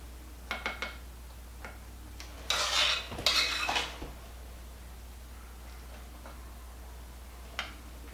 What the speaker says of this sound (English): So now I'm going to be putting some of this pudding mixture over it.